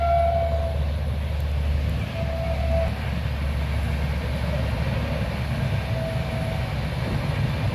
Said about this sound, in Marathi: मस्त आज अशी रेल्वे चालली बरं का इथून